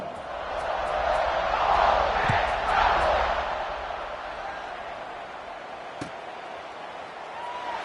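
A football stadium crowd roars before kickoff in a Duke game, a loud sustained wash of cheering that swells early and then holds steady, with a sharp slam near the end.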